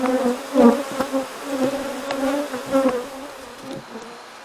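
Honey bees boxed up in an 18-gallon tote buzz steadily and close by, a dense humming drone with small swells in loudness and no voices.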